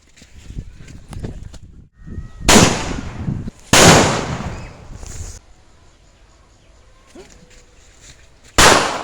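Firecrackers burst in loud, sharp cracking volleys, three big bursts a second or so apart plus smaller pops between, each trailing a brief crackle, with quieter background noise in the gaps.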